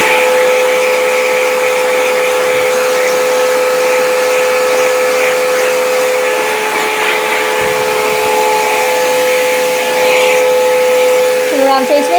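A fan blows steadily and loudly to dry a fresh spray tan, a continuous whooshing drone with a constant tonal hum that runs throughout, and no clear talking over it.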